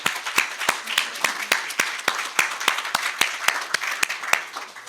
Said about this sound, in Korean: 우리 감사의 마음을 다시 한번 박수로 올려드리겠습니다.